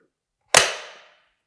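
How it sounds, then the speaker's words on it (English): The bolt of a Steyr ACR rifle slams forward with a single sharp, loud metallic crack and a brief ringing decay, alone against silence. "that made my ear ring because the bolt moving forward"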